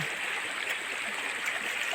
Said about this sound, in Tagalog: Ilog. Ang linaw ng tubig, grabe.